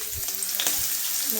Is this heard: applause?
no